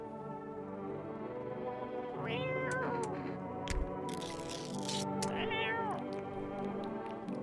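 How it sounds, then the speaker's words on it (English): A cat meows in a video game, two drawn-out rising and falling meows a few seconds apart, clear and fairly close over a soft steady background tone with a few faint clicks. "We should probably feed the cat."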